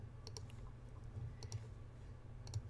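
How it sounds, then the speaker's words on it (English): Computer mouse clicks while digitizing an embroidery design in Wilcom Hatch software, a handful of quiet, crisp clicks in small pairs spaced irregularly over a faint background hum, with no talking. "And I'm just right-clicking around."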